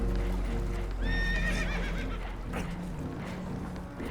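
Spooked horses whinny aboard a damaged boat taking on water in the video game Red Dead Redemption 2, a shrill neigh rising near the start over a steady low rumble of water and hull, with muffled background noise throughout.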